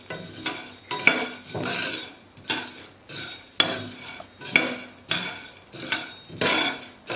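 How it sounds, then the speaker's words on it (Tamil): Roasted gram dal (pottukadalai) is stirred in a dry wok with a utensil, giving steady, rhythmic scraping and rattling strokes about once a second, close and moderately loud, with no talk. "பொட்டுக்கடலையை வெறும் வானலியில் வறுத்துக்கலாம்."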